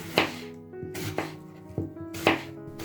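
A knife slices an apple thinly on a board, four distinct crisp cuts at an uneven pace, close and clear with no talking.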